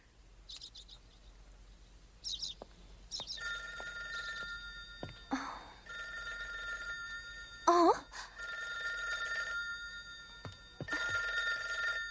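An old telephone bell rings in repeated bursts with short pauses between them, in a 1990 Korean-dubbed animated series based on Daddy-Long-Legs. A few brief chirps and clicks come before the first ring, and there are faint background sounds.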